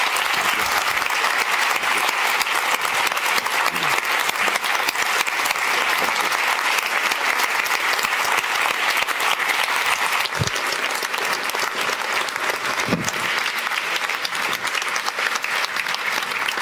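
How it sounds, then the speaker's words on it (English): A large audience at a conference event in Amsterdam applauds steadily for the whole stretch, a dense, even roar of clapping with no voices standing out. "not after we've given you one more round of applause"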